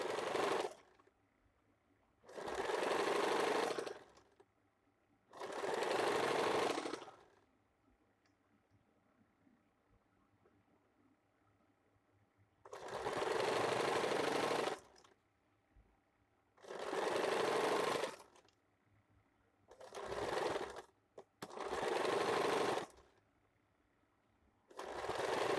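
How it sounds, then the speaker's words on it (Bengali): A sewing machine stitching piping onto a sleeveless blouse, running in about seven separate bursts of steady whirring of roughly one to two seconds each, with quiet pauses between them. "এবার দেখুন এদিক থেকে আমি এভাবে একটা ফোল্ড করে সেলাই করে নেব"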